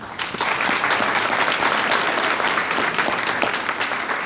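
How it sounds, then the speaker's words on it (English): A crowd claps steadily and loudly, a dense wash of applause that holds for several seconds without pause. "If you'll give another round of applause."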